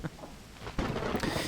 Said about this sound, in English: it's now raining again